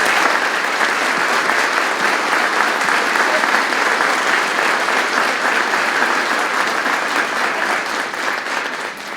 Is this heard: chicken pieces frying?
no